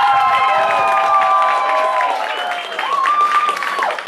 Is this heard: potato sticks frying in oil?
no